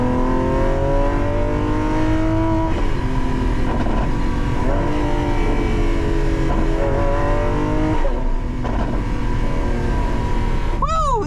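A Lamborghini Aventador SVJ Roadster's engine revs hard through a loud exhaust setting, a continuous close-up roar with rising and falling pitch sweeps and a sharp final rev spike.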